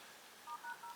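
Keypad dialing tones from a Samsung Galaxy S8 as a code is typed in, three short dual-tone beeps in an even rhythm over a faint background hiss.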